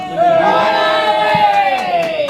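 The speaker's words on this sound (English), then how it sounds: "Gets a big cheer there from the Tranent supporters here." Tranent FC supporters at a football match against Caledonian Braves raise a short, swelling vocal cheer, voices rising and holding for a couple of seconds before fading.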